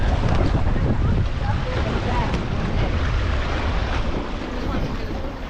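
A sailboat runs under sail off Hopetown, with a steady rush of wind and water along the hull, heavy wind buffeting on the microphone, and faint voices now and then.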